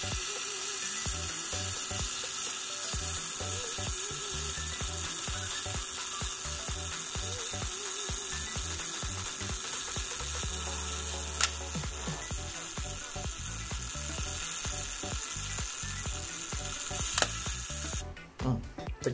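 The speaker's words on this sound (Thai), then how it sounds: "ผมจะเทสไทม์เมอร์ขึ้นชัตเตอร์แล้วขึ้นไทม์เมอร์กดตรงนี้นะครับ" A Zorki 4 rangefinder film camera's self-timer mechanism runs with a steady close mechanical whirring and ratcheting buzz for most of the clip, ending in a sharp shutter click near the end.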